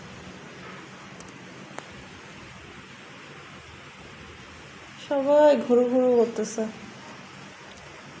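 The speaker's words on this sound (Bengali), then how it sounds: "বাইরে এত বৃষ্টি হচ্ছে, কখন যে বৃষ্টিটা থামবে" Heavy rain falling outside, heard as a steady, even hiss throughout, with a person briefly talking close by near the end.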